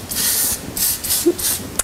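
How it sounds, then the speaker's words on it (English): Ultimate Hairspray misted over curled hair, heard as four close, steady hissing bursts from the aerosol can with brief pauses between them. "Give it a good misting of Ultimate Hairspray."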